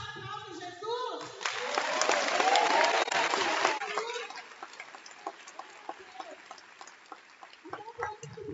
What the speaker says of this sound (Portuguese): Você pode dar um forte aplauso em Jesus?